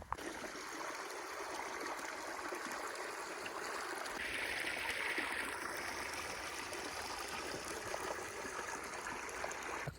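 Irrigation water flows steadily into a chickpea field, a constant soft rushing and trickling that continues unbroken through the whole clip, with faint outdoor ambience and no voices.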